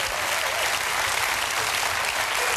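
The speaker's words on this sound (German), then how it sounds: "Bitte sparen Sie sich diesen Applaus für später" A studio audience at a German late-night talk show applauds steadily, dense even clapping filling the room at moderate level with no pauses.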